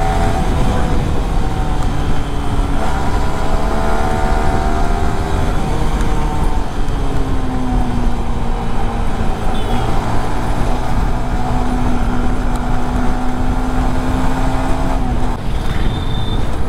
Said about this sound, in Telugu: ఇప్పుడైతే ఇంజిన్ అయితే స్మూత్ రన్ అవుతుంది